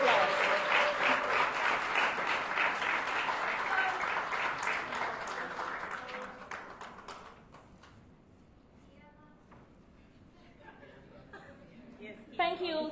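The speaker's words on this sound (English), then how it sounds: "she deserves a resounding round of applause" Audience applause at a graduation ceremony: a large crowd claps steadily and loudly for several seconds, then the clapping fades into quieter murmurs and a voice before a brief renewed burst at the end.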